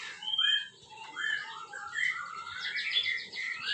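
Oriental magpie-robins (kacer) of the panda colour variety chirp in a breeding cage, bright whistled phrases and tweets repeating steadily throughout at close range.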